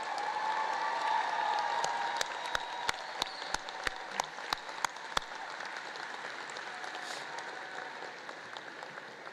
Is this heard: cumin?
no